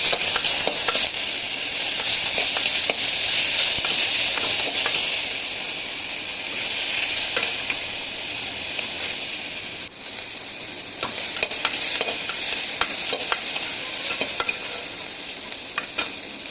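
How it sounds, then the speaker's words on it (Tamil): Onions and tomatoes sauté in a pan for a coconut milk chicken curry, a loud, steady frying hiss and sizzle running throughout with repeated scraping stirs and occasional sharp spatula clicks against the pan. "வெங்காயம், தக்காளி எல்லாத்தையும் நல்லா போட்டு வதக்கணும்"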